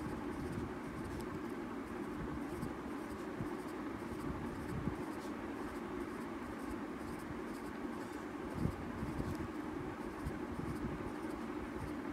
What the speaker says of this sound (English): Have a sharpened pencil to draw all these small cells around these cystic microcystic spaces.